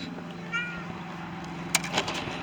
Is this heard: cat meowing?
yes